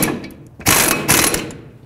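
A ratchet snugging up the brake caliper bracket bolts on a 2005-2009 Chevy Equinox, two short bursts of fast metallic clicking close by, separated by a brief pause.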